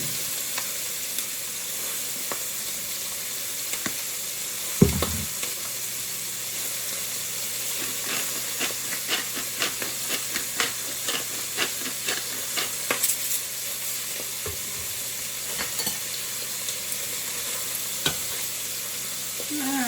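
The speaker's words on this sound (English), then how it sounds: "And they're getting nicely seared." Turkey wings seasoned with salt and pepper sear in a hot pan, giving a steady sizzle with scattered stirring clicks and a louder clatter near the middle, no talk over it.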